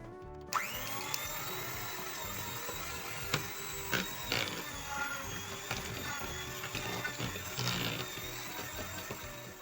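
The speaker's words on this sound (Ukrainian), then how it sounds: "масло кімнатної температури нам треба збити міксер до пишного стану" An electric mixer beats room-temperature butter with a continuous high motor whine and faint knocks and scrapes against the bowl, heard on its own without talk.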